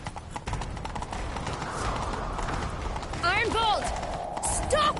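Horse hooves clip-clop steadily in a video game as a rider gallops off, accompanied by creaking tack and a whinny, with voices speaking over the ride.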